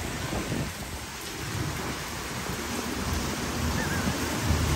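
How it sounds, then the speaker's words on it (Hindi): Dense, loud downpour in Bali, Indonesia, roaring steadily on surfaces, a constant heavy wash of rain with no pauses. "इंडोनेशिया की बारिश इतनी तेज हो रही है ना, ना कुछ सुनाई दे रहा है"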